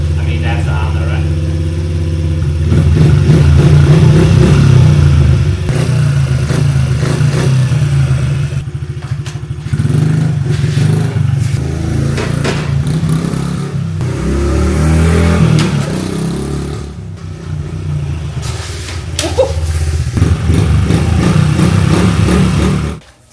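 A Honda motorcycle engine revving hard while riding, loud and close, with sustained mid-pitched roaring, throttle surges and brief dips, a drop around ten seconds, then a steady drone until it cuts off abruptly.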